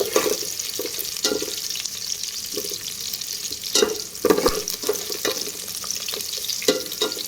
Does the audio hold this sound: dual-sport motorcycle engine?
no